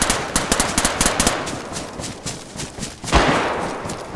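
Enemy gunfire in an online shooter, a burst of rapid close cracks in quick succession, then scattered softer shots and one louder blast near the end.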